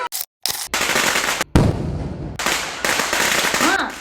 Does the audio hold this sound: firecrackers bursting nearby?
yes